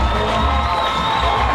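Crowd at a Victoria HarbourCats baseball game roaring and cheering after a grand slam, a dense, loud wash of shouts and whoops filling the ballpark with a brief whistle above the noise.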